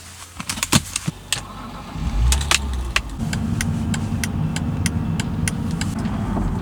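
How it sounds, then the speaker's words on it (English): A car's turn indicator ticks in an even, steady rhythm inside the cabin, with engine rumble and some jangling early on before a continuous idle hum settles beneath the clicks. "Did you hear this signal, this clicking? How do you call it in your language? I think in English it is a turn indicator, right?"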